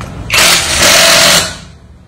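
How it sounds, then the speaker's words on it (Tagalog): A cordless Powerhouse impact wrench spinning a car's lug nut, one continuous loud burst of about a second with a slight surge midway, then trailing off. "that's how easy to use this Powerhouse impact wrench"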